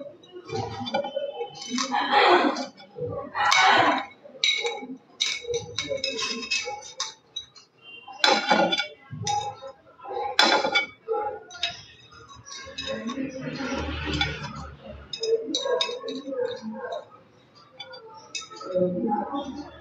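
Utensils clink and tap against a pan while puli pithas are lifted out one by one, a string of bright, irregular metallic chinks close by over a soft kitchen background.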